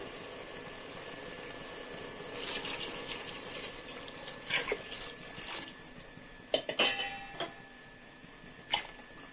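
Water pours into a cooking pot of rice with a steady rushing splash, punctuated by clinks of metal utensils against cookware.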